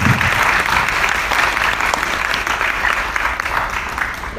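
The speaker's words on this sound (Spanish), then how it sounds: "Le pido que le demos un aplauso" A seated audience at a talk on phobias and panic applauds, a steady, full round of clapping that holds evenly for several seconds before easing slightly at the end.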